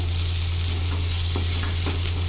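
Egg curry masala with onions being stirred in a hot pan: a steady close sizzle with a few soft spoon scrapes, over a low constant hum, no voices.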